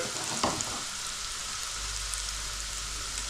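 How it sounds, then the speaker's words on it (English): Tofu pieces fry in hot oil for a sweet and sour tofu dish, giving a steady, close, hissing sizzle with a brief stirring clatter near the start. "Now you want the oil up quite high to get these crisp as best as you can."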